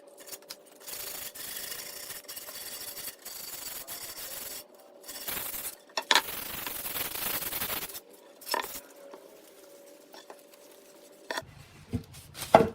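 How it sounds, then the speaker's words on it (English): A wooden shelf board for a computer desk has its sharp, pointy cut edges sanded by hand, giving repeated rasping rubbing strokes in bursts of a second or two with short pauses, close and moderately loud over a faint steady tone. "because the edges are really sharp and pointy, I'm going to sand it off"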